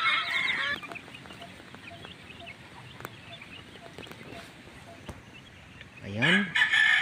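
Hen and chicks clucking and peeping while pecking at feed outside their coop, with soft scattered calls and a louder burst of clucks at the start and again near the end.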